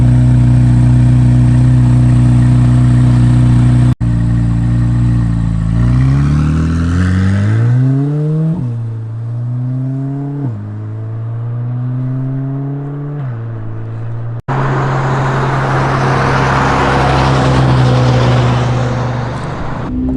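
A Chevrolet C8 Corvette Z06 idles loudly, then accelerates away, its engine climbing through several gear changes as it fades into the distance before another loud burst of engine noise.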